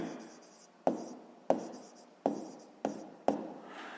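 Pen or pencil strokes tap and scratch on paper while a number is written by hand, five distinct sharp marks spaced roughly evenly, close and quiet with faint scratching between.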